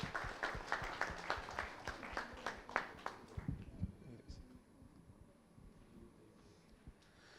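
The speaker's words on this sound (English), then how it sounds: "So all of us, let's clap and encourage them." An audience at a breastfeeding and lactation management quiz at a conference claps in a burst of fairly quiet applause that fades out after a few seconds, and a voice speaks briefly.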